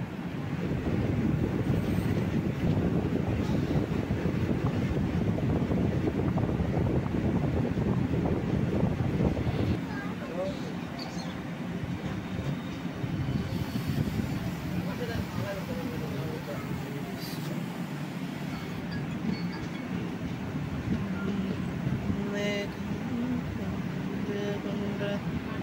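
A passenger train runs with a steady rumbling roar and rushing wind, loud for the first ten seconds and then quieter and smoother, heard continuously from inside a carriage.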